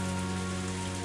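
Heavy video-game rain pouring down on a swamp, a dense, unbroken patter over a low steady hum of background music.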